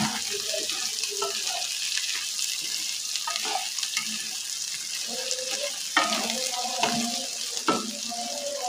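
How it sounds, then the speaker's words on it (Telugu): Cluster beans and potato fry in a pan with a steady sizzle, broken by the scrape and clink of stirring near the end, close up and moderately loud. "మధ్య మధ్యలో కలుపుకుంటూ ఇలాగ ఒక 10 నిమిషాలు వేపుకోవాలి"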